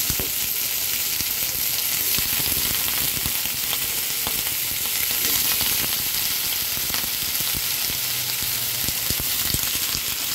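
Eggplant, flat beans and potato frying with onion in a hot pan, a steady loud sizzle with crackling spatters running throughout and no voices.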